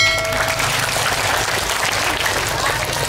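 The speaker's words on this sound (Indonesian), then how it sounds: "Contohi Pak Wali, tepuk tangan." Dense audience applause fills a large outdoor religious gathering for the Islamic New Year, with steady crowd clapping and a faint murmur of voices underneath.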